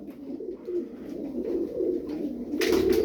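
Soft, low cooing from crested blue costume pigeons repeats in a steady rolling rhythm, close by, followed by a brief rustle of wings or movement at the end.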